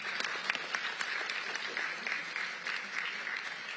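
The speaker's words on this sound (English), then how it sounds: "Let's give them all a big round of applause for their support." Steady audience applause at a political event at the Capitol, a dense wash of many hands clapping continuously at moderate distance, with no voices standing out.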